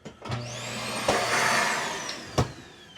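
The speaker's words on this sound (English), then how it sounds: "Then you got a central vac system." A central vacuum system in a 2026 Nobo 19.0 camper runs with a steady whooshing roar that swells slightly, punctuated by a few sharp clicks or knocks, fairly close and loud.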